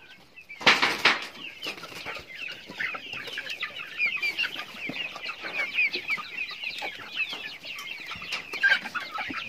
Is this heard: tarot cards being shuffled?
no